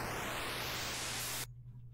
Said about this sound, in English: a noise note that starts out very low, so that we can hear it bend upwards instead and get a rising sort of a rough noise